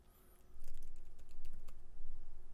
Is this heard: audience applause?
no